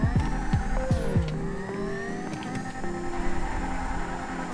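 Banshee sports car in GTA V revving hard, engine pitch climbing and dropping in quick repeated rises as it shifts through gears, loud and close with a steady rumble underneath and no voices.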